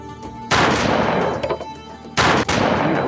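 Rifle fire at distant targets in the mobile shooter Modern Combat: Sandstorm: two loud, close bursts of rapid shots, the first lasting about a second and a half and the second shorter, separated by a brief lull.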